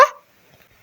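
A single short, sharp dog bark right at the start, loud and close, then fading quickly into near silence.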